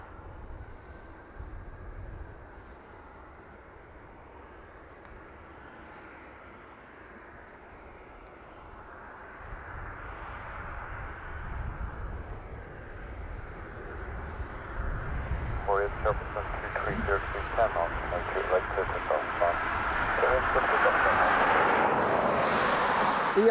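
Aer Lingus Airbus A320 jet bound for Heraklion, a distant engine rumble that gradually swells louder over the span, with a voice talking partway through.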